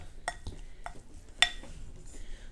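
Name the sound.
spoon mixing salmon roe in a Pyrex bowl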